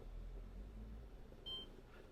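A single short, high electronic beep from a kitchen timer being set while somen noodles cook in boiling water, standing out briefly over a low, steady kitchen hum.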